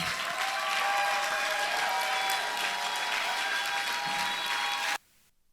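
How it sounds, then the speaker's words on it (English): Graduation ceremony audience applauding loudly and steadily in a hall, a dense sustained clatter of many hands that cuts off abruptly near the end. "I'd like you to resoundingly applaud my dear sister"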